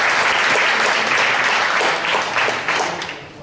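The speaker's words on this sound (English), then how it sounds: "I would like to ask for the applause for Turgut Mustafa." An audience at an alumni education forum applauds loudly and steadily, a dense wash of many hands clapping at once that holds strong and then tapers off slightly toward the end.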